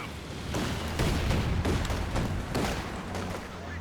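Dense, continuous gunfire crackles and thuds as troops are shredded in the World War II strategy game Company of Heroes 2, a steady barrage of overlapping shots and distant booms with no pauses.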